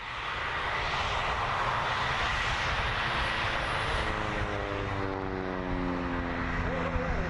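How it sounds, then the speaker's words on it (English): Harvard propeller aircraft flying inverted, its engine droning steadily overhead and then faltering with a brief hiccup as the pitch sweeps, heard from the ground at a distance. "You hear that engine hiccup a little bit"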